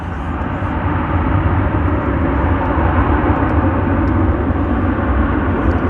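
A fixed-wing passenger plane comes in to land at Dallas Fort Worth airport, its engines a loud, continuous broadband roar sustained without a break.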